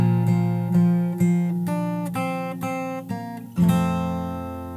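Plucked fingerstyle guitar notes from a song tutorial ring out one after another in a slow, steady phrase, with a low bass note sustaining beneath; clear and close, no voices.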